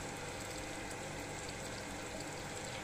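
A Sanyo water pump with air trapped inside runs steadily, giving a dense, constant hiss and gurgle of water and air bubbles close by, unbroken and with no talking.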